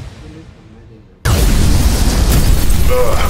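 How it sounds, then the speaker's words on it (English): A fireball explosion in a cartoon animation bursts in suddenly after a quiet, low lead-in, then roars as a loud, sustained blast to the end. "What the? A fireball?"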